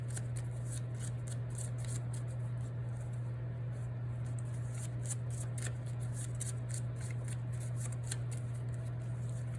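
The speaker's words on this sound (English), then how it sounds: "We just are going to shuffle up our deck." A deck of playing cards for the solo card game Kni54ts is shuffled in quick, repeated riffling bursts over a constant low electrical hum.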